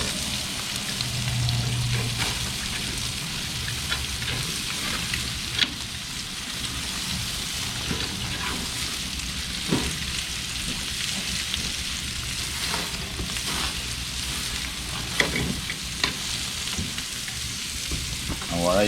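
Bacon-wrapped jalapeno poppers and steaks sizzle on a grill in a continuous crackling hiss, with a few sharp pops standing out from the steady frying.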